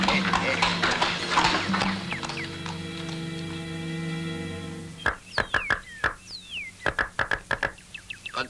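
Horse hooves clip-clop in an animated Cuban film, a run of sharp, loud knocking steps in an uneven rhythm that follows a stretch of steady musical tones.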